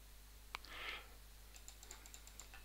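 Keys pressed on a DK T7 unit to enter a password: a few quiet, separate clicks, then a quick run of light taps close by, with no talking.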